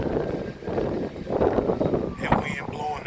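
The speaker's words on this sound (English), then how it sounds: "That wind blowing the gates open and closed." Hurricane wind gusts and roars into the microphone while someone talks over it, with a brief clattering burst near the end that could be gates banging.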